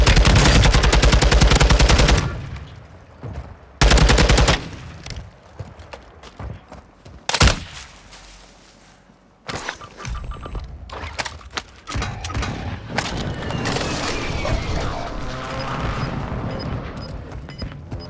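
Battle royale video game gunfire: loud bursts of automatic fire with sharp shots and booms, broken by quieter gaps, then a steady mechanical rumble with scattered distant shots.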